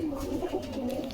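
Pigeons, including Giribaz and other fancy breeds, cooing in a loft at a pigeon shop in Bogura, a steady near chorus of low throaty coos overlapping with no pause and no speech.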